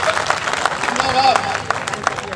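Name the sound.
audience applause at a poetry recital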